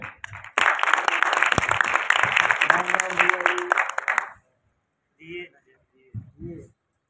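An audience at a poetry recital gives a dense burst of applause that lasts about four seconds and stops abruptly, followed by a few brief spoken words.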